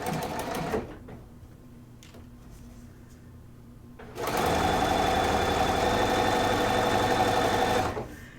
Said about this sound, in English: And then we're going to start stitching right there.